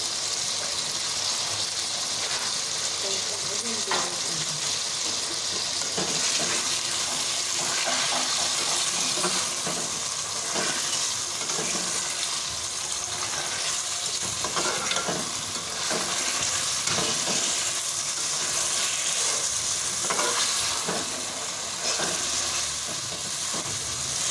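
A steady hiss and sizzle of potatoes frying in oil with onions, ginger, garlic and cumin continues throughout, with occasional stirring scrapes and clatters in the pan.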